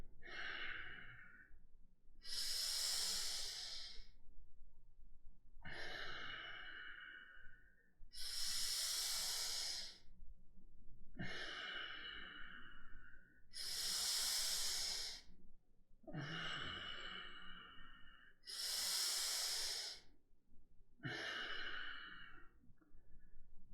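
Slow, deep breathing during a calm breath-and-movement exercise, with six or seven long audible inhale and exhale cycles, each a breathy airy rush close to the microphone and separated by quiet pauses, with no talk.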